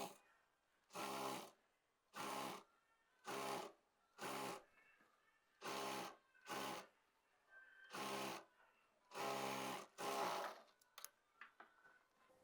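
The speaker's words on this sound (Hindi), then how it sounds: "1/2 इंच का गैप लेंगे और सिलाई लगाएंगे" A sewing machine stitches a lehenga fabric strip in repeated bursts of steady whirring, about ten runs each lasting under a second with short pauses between, close-up with small clicks and handling at the end and no talking.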